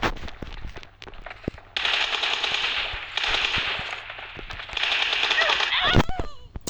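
Rapid bursts of automatic gunfire from the Free Fire video game come in three sustained volleys, with separate sharp single shots between them. A player speaks briefly among the shots.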